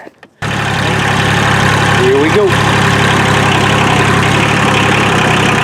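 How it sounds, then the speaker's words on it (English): A tractor engine catches after a brief quiet moment and settles into a steady, loud idle that runs on evenly, with a short spoken remark over it. "I'm going to go get the key to the tractor."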